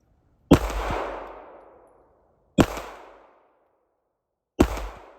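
Three loud pistol shots from an S&W Bodyguard 2.0 firing 95 grain Aguila full metal jacket rounds, evenly spaced about two seconds apart, each a sharp crack trailing into a short decaying echo.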